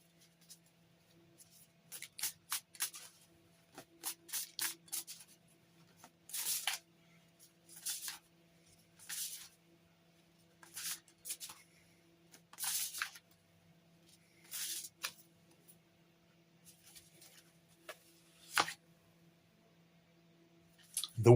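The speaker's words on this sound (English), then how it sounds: "So let's see which oracle card we get to go with that." Oracle cards being shuffled by hand during a daily tarot and oracle reading, a series of soft, papery riffling bursts coming in short rhythmic bouts with quiet gaps, close and alone with no talking.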